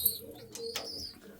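White-headed pigeons coo softly in a loft, with a few faint calls and a brief rustle rather than any talk.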